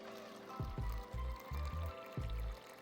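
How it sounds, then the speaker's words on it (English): Brackish water poured from a gallon jug into a small closed shrimp tank with sand, coming in several separate glugging pours of varying length, close and moderately loud with no talk. "We're gonna pour it in there."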